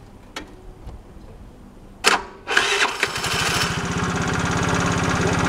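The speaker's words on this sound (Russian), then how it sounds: "ну вот я скутер сделал. Сейчас пытаемся завести." A 4-stroke scooter with a newly replaced piston is started: a few faint clicks and a sharp starter burst, then the engine catches and settles into a steady, close, buzzing idle.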